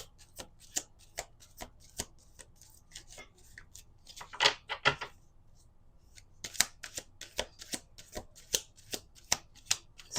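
A deck of oracle cards is shuffled by hand, close up and quiet. It gives repeated crisp riffling snaps at an uneven rhythm, with a few denser flurries.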